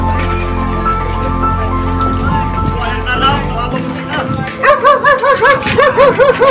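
A dog yips and whimpers in a rapid series of high, short cries near the end, following a low rumbling background with voices, during a Category 5 super typhoon.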